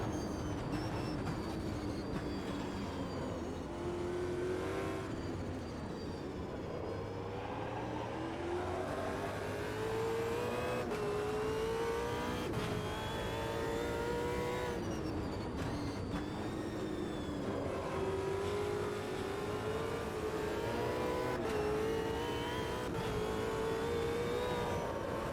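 Race car engines in the Automobilista 2 racing simulator: a steady, loud engine drone that rises and falls in pitch through repeated gear shifts and acceleration runs, with a second car nearby.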